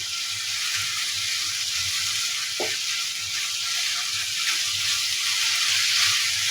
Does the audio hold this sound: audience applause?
no